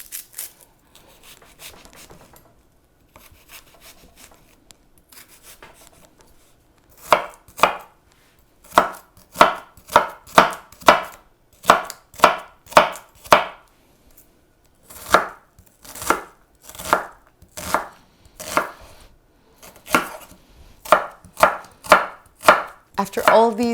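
A knife chops red onion on a cutting board, starting with a few scattered cuts and then settling into brisk, evenly spaced rhythmic strokes, close and crisp.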